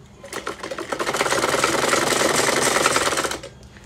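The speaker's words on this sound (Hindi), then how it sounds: "साइड में जो हमने निशान लगाया था, मैं उसी पर सिलाई लगाती जा रही हूँ।" A sewing machine runs in one continuous burst for about three seconds, rapid even clatter of stitching along the side seam of a shrug, close and loud, starting and stopping abruptly.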